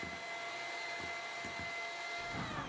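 An electric mixer beats egg whites with sugar for cupcake batter, giving a steady, fairly loud motor whir throughout with faint periodic low thumps and no talk.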